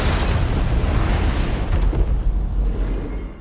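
Car bomb blast in a film: a dense, sustained low roar and rumble fills the whole stretch, loud and close, with no voices.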